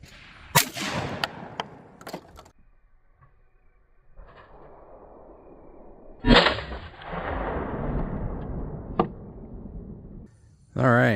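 A Browning Sweet Sixteen 16-gauge shotgun fires a few sharp, loud outdoor blasts spaced several seconds apart, each trailing off in a long, fading echo, with a heavier report near the end.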